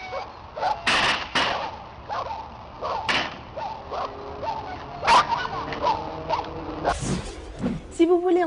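Brittany spaniels run an agility course at an international breed championship, giving sharp yips and short barks amid quick rustling bursts and scattered thumps at close range.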